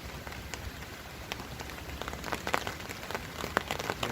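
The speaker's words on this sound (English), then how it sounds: "Especially when you've got rain rattling on the tarp and wind blowing through the forest." Rain rattles on a tarp in a forest during a torrential overnight downpour, a faint, dense patter of drops with sharper individual taps scattered throughout, steady and without voices.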